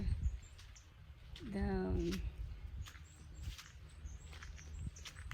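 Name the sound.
birds chirping in backyard garden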